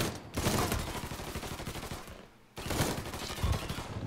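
Dense gunfire rattles through a shootout in the video game Mafia 3, rapid overlapping shots filling the clip with a brief lull before another loud burst resumes.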